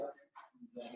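A dog barks a few times close by amid household noise, with people talking over and between the barks.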